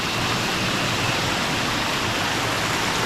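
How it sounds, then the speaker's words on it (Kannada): Water pouring down a waterfall fed by a green pipe on a coffee estate, a steady dense broadband rush that stays loud and even throughout with no pauses. "ನೀರು ಬೀಳ್ತಿದೆ."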